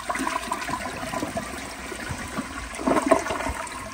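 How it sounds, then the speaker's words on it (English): A 2000s Vortens Vienna elongated toilet flushes up close, a steady loud rush of water swirling through the bowl that swells toward a gurgling surge near the end, with no talking. "Here is a flush."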